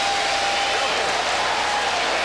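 A boxing crowd in Connecticut cheers and applauds a round at the 1998 Lennox Lewis vs Željko Mavrović bout, a dense, loud and continuous roar of clapping and shouting with no break.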